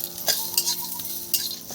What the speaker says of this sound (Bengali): প্রথমে এই কড়ার মধ্যে দিয়ে দিলাম, দিয়ে একটু নেড়ে চেড়ে নেবো বন্ধুরা।